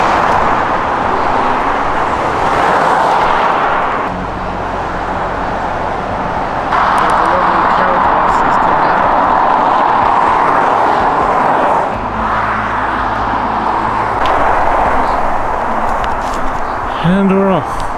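Steady traffic roaring along a dual carriageway, loud and continuous throughout, with a person talking over the road noise.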